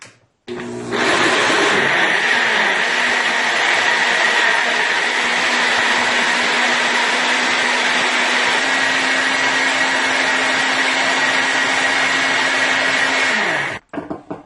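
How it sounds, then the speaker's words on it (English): A countertop blender whirs steadily for about thirteen seconds, pureeing pigeon peas with water into a smooth mixture, starting abruptly after a brief pause and cutting off sharply at the end, loud and close. "I am going to go ahead and I am going to blend this"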